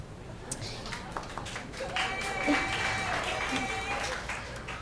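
Comedy club audience claps and cheers for a short burst, a scattered, moderately loud patter of hands mixed with crowd noise and some voices, fading slightly near the end.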